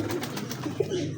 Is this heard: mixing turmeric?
no